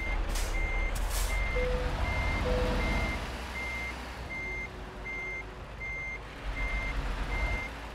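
A truck reversing in Euro Truck Simulator 2, its backup alarm beeping in an even, rapid series of short tones over a low engine rumble, with a couple of brief air-brake hisses near the start.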